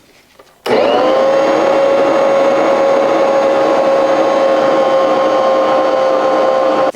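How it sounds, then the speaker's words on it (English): A stand mixer kneads whole wheat bread dough, its motor starting abruptly and then holding a steady, loud whine with a strong sustained tone throughout, with no talking. "I'm going to turn the mixer on just to get that going."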